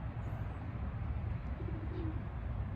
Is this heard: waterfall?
no